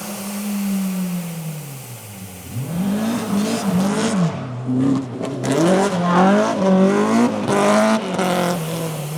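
A tarmac-spec Toyota Celica ST185 rally car engine revs hard, climbing and dropping in pitch through repeated gear changes, loud and close with no talking.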